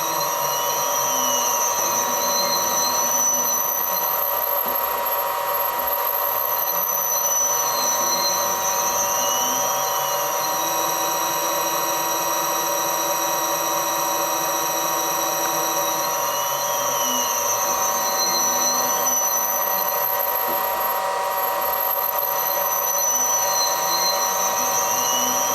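A Samsung direct drive washer motor turning in reverse at about 250 RPM gives a steady, continuous electric whine with faint recurring whistling sweeps, running alone without pause.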